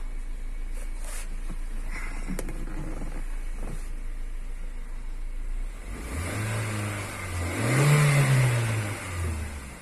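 A Honda Mobilio engine idles at low RPM with a steady low hum, then revs up and settles back down, near and clear with no talking.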